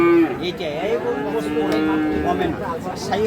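Sahiwal cattle at a farm or market give a long, loud, close moo with a rising and falling tone, while people talk in the background.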